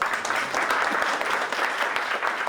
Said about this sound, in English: Please give him a big applause.